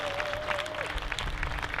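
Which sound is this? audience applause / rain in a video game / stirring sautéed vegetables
audience applause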